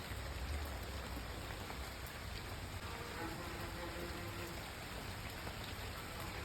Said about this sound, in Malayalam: വണ്ടിയിൽ മഴയും തണുപ്പും മഞ്ഞും കാറ്റും എല്ലാം കൂടെയാണ്